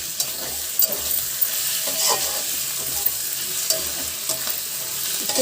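Ginger garlic paste and shredded cabbage frying on high flame, a steady loud sizzle with the rustle of constant stirring and occasional sharper ticks of a spatula against the pan, close and continuous with no talking.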